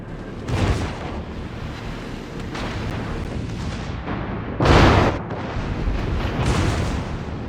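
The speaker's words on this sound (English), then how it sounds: "Enemy battleship destroyed" Heavy booming blasts from naval combat in World of Warships, with a battleship blowing up: several deep, rumbling explosions roll through the clip, the loudest burst arriving near the end amid continuous low battle noise.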